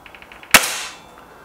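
A single sharp crack from a Hatsan 900X break-barrel air rifle firing, close and loud, followed by a short ringing decay, with faint ticking beforehand.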